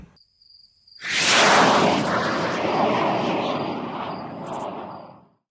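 A small Eachine F4U Corsair electric RC model airplane buzzes close by, its motor rising suddenly to a loud, steady whine that holds and slowly fades as it flies off.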